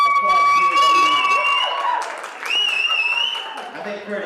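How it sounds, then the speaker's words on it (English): School audience cheering and applauding for a hat contest, a loud wash of claps and whoops mixed with excited shouting and high whistles, swelling again after a brief dip. "If you think Curtis's hat's better, applaud furiously now."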